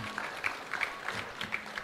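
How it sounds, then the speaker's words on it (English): Audience at a peace and security forum in Ghana clapping for speakers, a light, faint patter of scattered claps with a steady rhythm over a couple of seconds. "Please, a round of applause for all our guests who have spoken so far"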